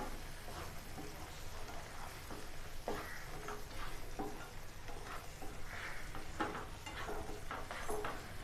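Bread halwa cooking in ghee in a pan, stirred continuously with soft sizzling and repeated scraping strokes of the spoon against the pan, close and moderately quiet with no talking.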